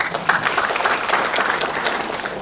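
An audience at a STEM seminar claps, a brief burst of dense applause from a room full of people, fairly close and steady before tapering slightly.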